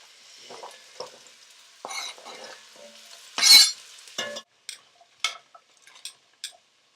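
Beef sizzles in olive oil in a pot with a faint crackle, broken by a loud spattering burst as it is turned and by a few scattered clicks and scrapes of a utensil; no talking.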